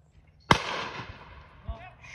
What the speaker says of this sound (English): Shot.